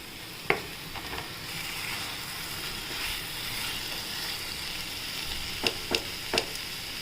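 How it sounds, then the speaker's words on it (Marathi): Potatoes go into hot oil with fried spice paste for a green-gravy potato dish, giving a low steady sizzle with a few sharp clinks and taps of a utensil against the pan. "आता आपण बटाटे टाकूया."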